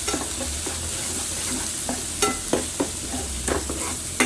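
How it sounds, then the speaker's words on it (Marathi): Masala sizzles steadily in oil in a pan over low heat while being stirred for a monsoon-style crab curry. A few scraping spoon strokes rise over the continuous frying hiss, and no one speaks. "हा मसाला घालून मिक्स करून घ्यायचा गॅस बारीकच ठेवायचा म्हणजे जळत नाही मसाला"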